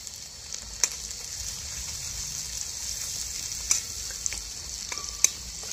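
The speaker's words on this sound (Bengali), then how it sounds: "যে আদাটা ভাজছি এর সাথে দিয়ে দেবো আমি একটু বাঁধাকপি, গ্রেট করে রাখা বাঁধাকপি দিয়ে দিচ্ছি।" Grated cabbage dropped onto ginger frying in oil in a pan for a vegetarian biryani, a steady bright sizzle with occasional scraping stirs and clicks of the spatula, no voices.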